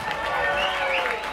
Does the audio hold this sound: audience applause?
yes